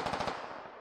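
Automatic gunfire crackles in the military shooter game Squad: a short, loud burst of several rapid rounds that fades quickly into a decaying echo, with no talking over it.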